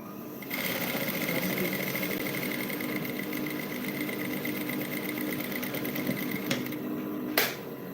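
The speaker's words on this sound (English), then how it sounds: "I'm actually using inverter to sew." A sewing machine powered through an inverter runs continuously with a dense, even mechanical whir and rapid stitching chatter, close and steady, ending with a couple of sharp clicks as it stops.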